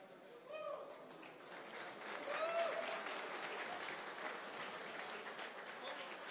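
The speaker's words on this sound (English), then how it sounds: "So please once again come here to have applause." Following a presentation about the Waves platform, a seated audience gives a steady round of applause that rises slightly midway, with a few faint voices and a whoop mixed into the clapping.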